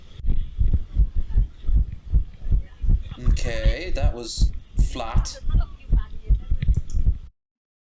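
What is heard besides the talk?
heartbeat in a watched video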